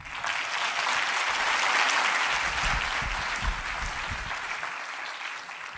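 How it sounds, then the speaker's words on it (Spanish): A church congregation applauds steadily, a dense, even wash of many hands clapping at once, loud and sustained throughout with no voices rising above it. "A este lado creo que aplauden menos que aquel."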